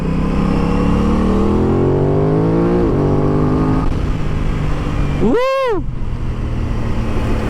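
An Aprilia RS660 motorcycle engine on a road ride climbs steadily in pitch as it accelerates, then drops off. A sharp, loud vehicle pass-by sweeps through near the end over constant wind rush.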